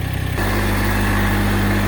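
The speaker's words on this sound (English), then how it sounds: "gonna take the tractor on out the shop, the carport here, and we're gonna get on some grass" Massey Ferguson GC 1700 compact tractor engine starting to pull away, a steady loud running drone with low throbbing harmonics that swells after a brief idle, close by and alone.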